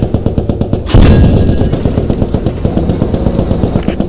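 A Churchill tank's bow machine gun fires in the game Post Scriptum: a heavy, sharp burst lands about a second in, then a sustained rapid rattle carries on under a steady engine rumble, close and loud, with no talking.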